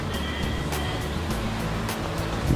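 Water flowing steadily at Ooty: a continuous, fairly loud broadband rush with no pauses, heard alone without talk.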